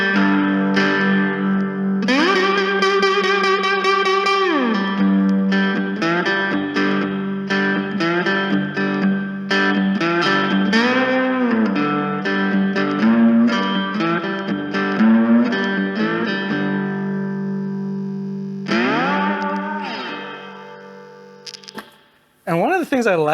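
Overdriven three-string cigar box guitar with a single-coil pickup, run through a compression pedal with the gain up: loud sustained notes, slides and strummed chords ringing out for most of the stretch, then a short pause and a final burst.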